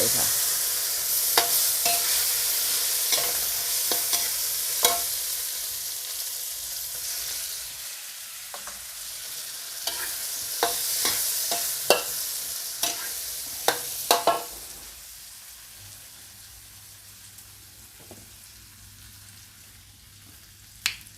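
Red chili and blended garlic stir-fried in hot oil for crispy pork basil, a steady hiss of sizzling broken by repeated sharp spatula scrapes and taps, fading quieter in the last seconds.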